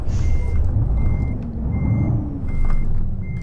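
A heavy Mercedes Actros MP3 truck engine in Euro Truck Simulator 2 rumbles low and loud while a reversing beeper chirps repeatedly at a steady pace over it.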